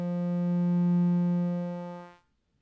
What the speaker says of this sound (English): We have this activation knob, which allows us to control the volume so we can hear the oscillator